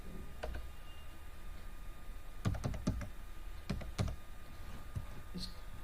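A spreadsheet formula is typed on a computer keyboard: a few scattered clicks, then a quick cluster of keystrokes and another short burst, fairly close and crisp over a steady room hum.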